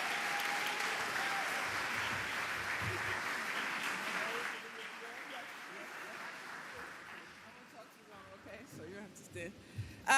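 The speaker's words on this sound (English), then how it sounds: "please give a big round of applause" Audience applause at a New York community college promotion event, dense clapping for about four seconds that fades out, followed by quieter room noise and scattered voices.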